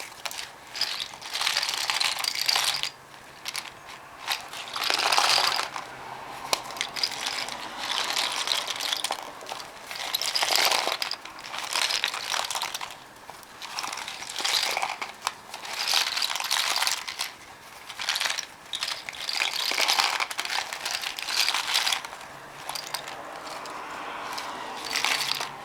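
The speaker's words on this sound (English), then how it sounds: "And now let's test it." A homemade rain stick tipped and turned, giving a steady rushing patter of small grains cascading inside, rising and falling in long waves over about twenty-five seconds, close and fairly loud with no talk.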